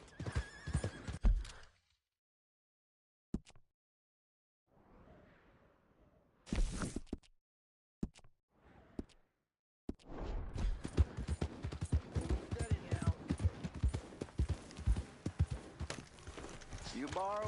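A horse whinnies and hooves clip-clop in Red Dead Redemption 2, with quiet gaps between bursts, then a long stretch of busy hoofbeats and movement sounds.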